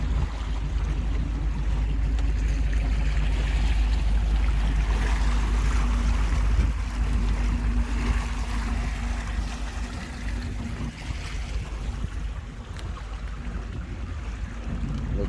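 A Stingray boat motoring upstream at idle speed on the Homosassa River, its low, steady engine drone running continuously under wind and water noise.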